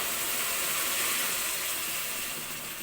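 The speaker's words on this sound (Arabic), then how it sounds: "هنزل بقى بالميه المغليه بتاعتي" Boiling water poured from a kettle while cooking brown rice, a steady, close, broadband hissing pour that holds at an even level for about three seconds with no talking.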